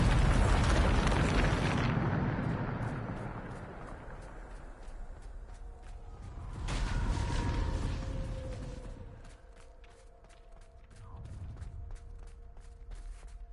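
A Bombarda spell explodes in a Harry Potter video game as a loud, broad boom that decays over a couple of seconds. A second rumbling surge follows, then scattered debris clicks and a quieter tail.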